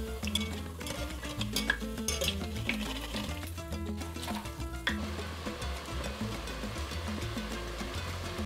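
Tortilla chips fry in a pot of hot oil with a steady, dense sizzle and bubbling throughout, joined by occasional clinks of a utensil against the pot.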